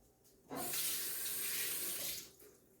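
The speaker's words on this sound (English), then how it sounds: "I got to get my hands wet" A kitchen tap is turned on and runs for about two seconds to wet hands while making sourdough bread, a steady, close splashing rush that starts abruptly and fades out, with no talking.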